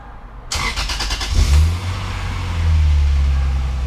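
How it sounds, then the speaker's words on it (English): A Lexus IS300 fitted with a swapped Pontiac Solstice AR5 manual transmission cranks briefly, then the engine catches with a loud rise. It settles into a steady close idle with a slight lift later on. "Start it up and see what happens."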